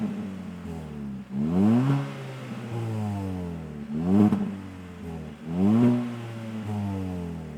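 A Kia ProCeed GT hatchback with a 204-horsepower engine revs repeatedly, its loud exhaust rising and falling in three distinct surges over a steady idle-like drone, heard up close with no talking.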